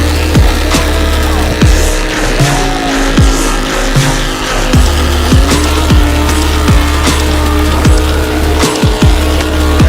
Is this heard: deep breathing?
no